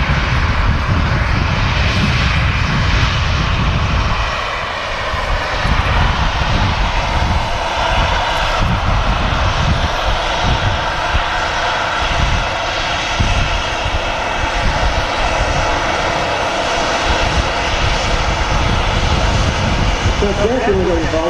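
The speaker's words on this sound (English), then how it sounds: "A330 just arriving here at Manchester." An Airbus A330 airliner arrives at Manchester Airport, a loud continuous jet engine roar that stays steady for about twenty seconds, with a person talking over it.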